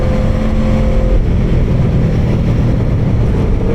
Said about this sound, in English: For now, you get unedited goodness on my 2013 Aprilia Tuono V4R APRC.